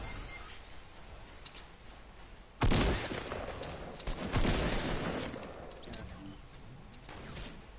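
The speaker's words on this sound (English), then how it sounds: "someone shooting at us" Gunfire in Fortnite comes as a sudden loud burst of rapid shots, followed by further volleys and a settling rattle, fairly close.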